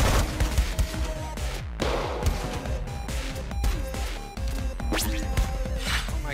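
Rapid machine gun fire in the video game Megabyte Punch, dense bursts of shots stacked with crashing impacts and busy game effects, loud and continuous for several seconds with no talking.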